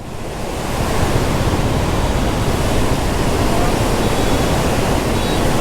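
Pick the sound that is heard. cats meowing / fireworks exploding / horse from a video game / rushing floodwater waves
rushing floodwater waves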